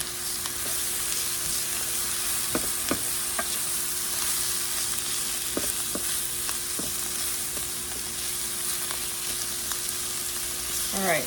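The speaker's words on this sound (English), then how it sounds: "stir it again" Food frying in olive oil in a pan, a steady loud sizzle throughout with occasional scrapes and taps of a utensil stirring it, close up.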